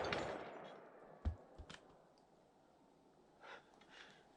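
A gunshot from a 10mm penetrator round fired at a bear-caliber test target, a sharp loud crack near the middle followed by a couple of smaller impacts and faint scuffing noises, with no talking.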